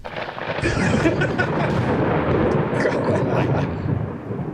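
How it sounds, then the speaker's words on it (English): A thunderclap sound effect plays as a loud, sustained rolling rumble with crackling texture that lasts for several seconds without a break. "Thunderclap. There you go."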